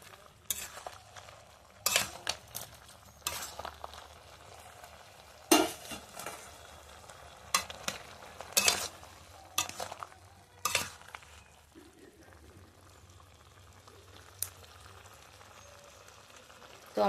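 Mustard paste being stirred into sukto in a pan, with intermittent scraping and clinking of a spatula against metal in short bursts over a faint simmer, closer and sharper early on, then quieter.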